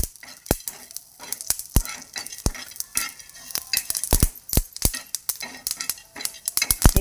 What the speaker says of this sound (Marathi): याच्यात थोडेसे तीळ टाकायचे,